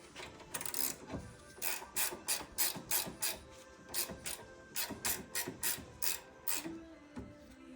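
Ratchet wrench tightening a steering ball joint on a Citroën C3 during clutch replacement: a long run of repeated sharp clicking bursts in steady rhythm, close and moderately loud, with no talk.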